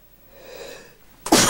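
A single person's sneeze: a quiet, drawn-in breath builds for about a second, then a sharp, loud burst close to the microphone.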